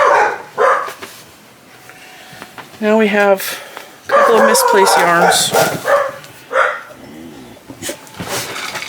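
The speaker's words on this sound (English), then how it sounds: "Dogs next door are out." Neighbouring dogs barking and yipping close by in bursts, with some whimpering, interrupting a person who talks intermittently about yarn indoors.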